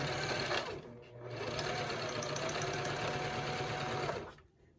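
A domestic sewing machine stitches through Harlequin vinyl with a steady, close mechanical whir that falters and strains, briefly pausing before continuing and stopping at the end.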